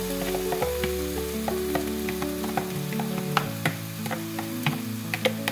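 Nutrijel winter melon jelly cooking in a wok over medium heat gives a continuous sizzle with scattered crisp ticks and pops. A steady tonal hum runs beneath the whole stretch.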